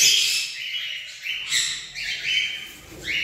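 Birds in a colony with chicks chirp in a flurry of sharp, repeated tweets, several calls overlapping in quick bursts close by, with no voices.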